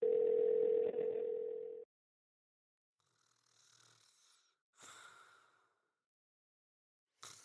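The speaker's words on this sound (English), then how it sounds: "He picked up the phone and dialed Alex's room." A telephone tone sounds as a room is dialed, a steady loud hum lasting nearly two seconds, followed by silence and a few faint soft breathy noises like snoring.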